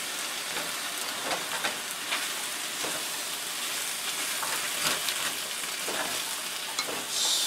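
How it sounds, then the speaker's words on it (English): Wilted spinach with spices is mixed around in a sizzling pan. A steady, close frying hiss runs throughout, with soft scraping and stirring scrapes scattered over it. "I'll take the lid off for a second, mix it around, start adding my spices."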